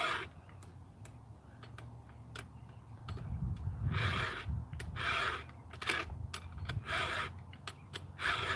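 A file rasps rhythmically across the teeth of a Stihl chainsaw chain held in a stump clamp, a series of close scraping strokes with short gaps between them.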